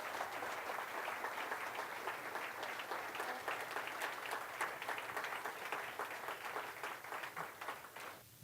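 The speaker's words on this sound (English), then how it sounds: "Let's have one more round of applause." Applause from an audience at a district speech conference, dense sustained clapping filling the whole stretch at moderate distance, with no talk over it.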